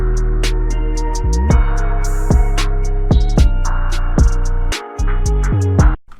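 Deep, loud bass line in a dark beat, steady low notes with octave jumps and gliding slides at phrase ends, over crisp hi-hat ticks and snare hits, with a brief cut near the end.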